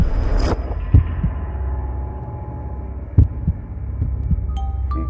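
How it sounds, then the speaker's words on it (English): Slow thudding heartbeat, a few deep muffled beats spaced a couple of seconds apart over a steady low hum, with a brief bright whoosh near the start. "it was the beating of the old man's heart"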